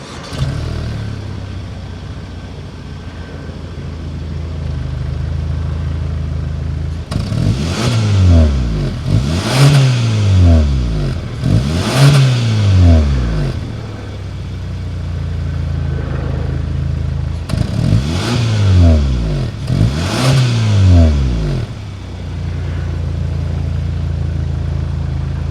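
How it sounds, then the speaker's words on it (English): 2.5-liter turbocharged four-cylinder exhaust of a 2022 Hyundai Sonata N-Line sedan, idling low and steady, then revved in two pairs of sharp rising and falling blips with idle between, close and loud. "Let's hear that exhaust note."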